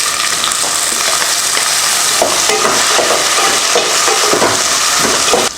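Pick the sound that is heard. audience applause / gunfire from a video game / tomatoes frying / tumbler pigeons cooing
tomatoes frying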